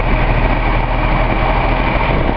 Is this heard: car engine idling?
yes